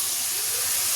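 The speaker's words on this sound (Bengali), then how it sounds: "ফ্রাই ম্যাগি করবো, সেই জন্য সবজিগুলো ভাজছি।" Vegetables frying in a pan for fried Maggi noodles give a steady, dense sizzling hiss, close and even for a short moment with no talking.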